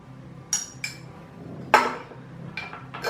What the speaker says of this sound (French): Je viens mélanger jusqu'à l'obtention d'une préparation homogène.